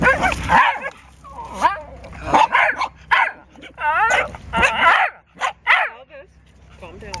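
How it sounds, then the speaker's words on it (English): A dog with a donut held in its mouth barks and yips repeatedly in muffled bursts during an outdoor picnic, while people talk over and between the barks. "still barking with his mouth full"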